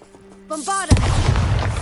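A Bombarda blasting spell goes off in Hogwarts Legacy with a loud, sudden boom, its broad crashing roar swelling up after a short spoken cue and continuing as a rumbling, debris-filled tail.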